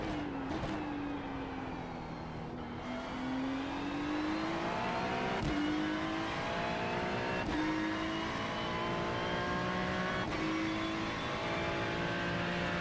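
A race car in the iRacing simulator braking and downshifting, the engine pitch dropping in steps with sharp blips at each gear change, loud and steady with no talk.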